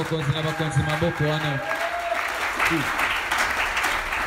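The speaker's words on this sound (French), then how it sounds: "Acclamez Seigneur" A church congregation claps and cheers in a dense, continuous burst while a voice speaks loudly over the start of the applause.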